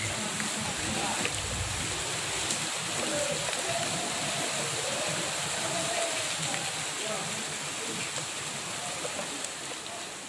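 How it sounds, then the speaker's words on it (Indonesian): Flood water running through a street in Bekasi during the evacuation of a body, a steady broad wash of flowing water that continues unbroken for the whole span. "Evakuasi jenazah tengah-tengah banjir."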